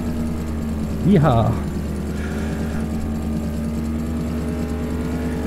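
Engine of a 1969 Dodge Charger General Lee in Farming Simulator 2017 drones steadily throughout, with a brief louder rise as it gets up to speed, while a voice whoops over it.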